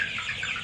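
Chickens cluck at a farm where young hens and chicks are kept, producing a brief, close burst of overlapping clucking calls.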